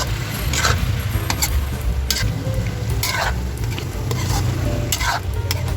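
Chicken liver with spring onion and green peas stirred in a hot pan, steady close sizzling broken by repeated scraping strokes and light clinks of a utensil against the pan.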